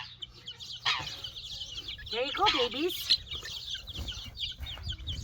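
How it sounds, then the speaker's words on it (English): A small group of young bantam chickens clucks and cheeps close by in busy, overlapping calls, while a person talks softly over them. "7 little chickens."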